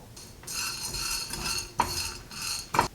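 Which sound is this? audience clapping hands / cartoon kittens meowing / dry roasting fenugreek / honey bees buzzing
dry roasting fenugreek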